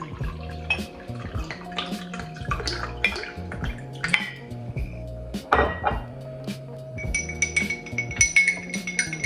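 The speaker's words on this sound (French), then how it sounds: "pendant que je fais la vaisselle je vous parle" Dishes being washed by hand at a kitchen sink, with clinking glass and crockery, running tap water and drips, close and continuous with scattered sharper clinks.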